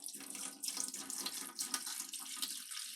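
Distilled water pours steadily into a big mixing container, a continuous close splashing stream with no talk.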